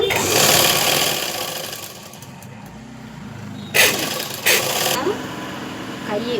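Sewing machine stitching the shoulder seam of a garment, a steady mechanical whir up close with a couple of sharp clicks or fabric shifts near the end, and voices talking faintly underneath.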